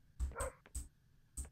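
A dog barks nearby indoors, giving four short sharp barks in quick uneven succession, loud against an otherwise quiet room.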